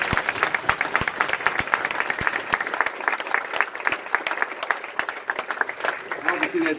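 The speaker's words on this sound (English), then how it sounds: "a round of applause for Dominic Breazeale and Anthony Joshua" Audience applause at a boxing press conference for Anthony Joshua and Dominic Breazeale at Sky Sports studios: a steady wash of many hands clapping, fairly close, with scattered sharper claps and some talk mixed in.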